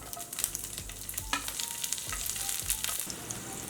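Chopped green chillies sizzle and crackle in hot oil with mustard seeds and chana dal for onion gojju, a busy spattering frying sound with stirring clinks, close up.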